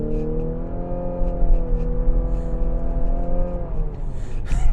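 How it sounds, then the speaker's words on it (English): An Infiniti QX50 Sport's turbocharged 2-liter four-cylinder engine pulls hard under acceleration, a steady tonal drone with a slight rise in pitch, recorded from inside the cabin and punctuated by a few faint clicks. "what that sound is coming from is that 2-liter 4-cylinder engine."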